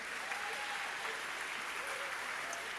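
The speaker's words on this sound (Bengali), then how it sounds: "ফলে রলের জন্য একটা বড় হাততালি।" Audience applause at a band concert in Raleigh, a dense, steady wash of many hands clapping that stays loud and even for the whole stretch, with no talk over it.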